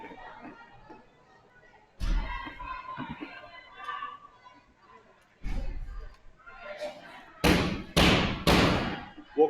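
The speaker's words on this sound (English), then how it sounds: "We'll go ahead and close the doors and begin." Doors thud shut in a legislative subcommittee hearing room, several heavy close thumps spaced a few seconds apart, the last ones loud and near, with quiet room murmur and voices between.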